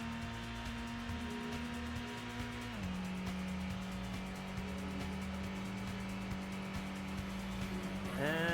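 Car in the 1997 PlayStation Gran Turismo, its engine holding a steady droning tone that drops in pitch partway through, with a rising squeal of tires near the end, moderately loud with no talking.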